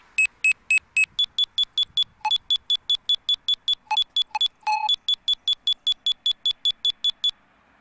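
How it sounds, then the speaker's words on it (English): An All Aboard phone app sounds a long run of short, sharp electronic beeps in steady rhythm after detecting a bus stop sign, the pitch stepping between levels, loud and close with no talk. "The beeping sound indicates a bus stop sign was found by the app."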